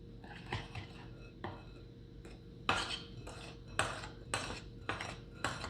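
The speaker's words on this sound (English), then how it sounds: "I just mix with my spoon." A spoon scrapes and knocks against a bowl while mixing honey cookie dough with flour, producing intermittent soft clinks and a few sharper taps over a quiet background.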